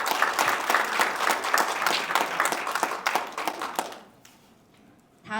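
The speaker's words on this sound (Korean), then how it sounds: "여러분 박수 한 번 더 부탁드립니다." Audience applause following a presentation at an education forum, dense steady clapping from a crowded hall that fades out toward the end.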